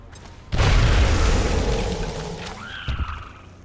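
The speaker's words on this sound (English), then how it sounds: "Grenade!" A grenade detonates in the turn-based strategy game XCOM: Enemy Unknown, a loud sudden boom followed by a rumbling decay of about three seconds, with a smaller crackling burst near the end.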